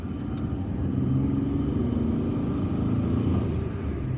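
A car drives through city streets in Algiers, its engine rumbling steadily with road and tyre noise, a continuous moderate drone heard from inside the vehicle.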